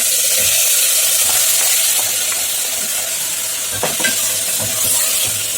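Onions and bone-in masala chicken fry in a pan for chicken biryani, a loud, continuous sizzle close by, broken by scattered scraping and stirring clicks.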